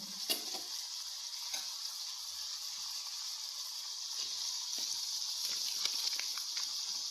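Curry leaves fry in hot oil with a constant bright sizzle and scattered crackling pops throughout, fairly close and without talking.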